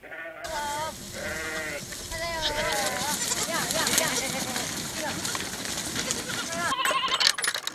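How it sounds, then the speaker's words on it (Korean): A herd of goats bleating as they return to their pen at sunset, several wavering calls overlapping near and far, with someone talking over them and faint clinks toward the end. "저녁해가 지자 염소들이 자기 우리로 돌아갑니다."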